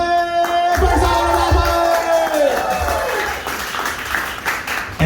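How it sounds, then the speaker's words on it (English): Crowd at a spoken-word performance applauding and cheering after a play, loud clapping and whoops under a sustained held tone that fades away, with voices calling out among the noise. "Clap it up for the play."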